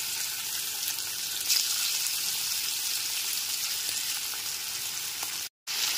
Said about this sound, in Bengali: এবার এতে দিয়ে দিচ্ছি নুন হলুদ মাখানো চিংড়ি মাছের টুকরোগুলো।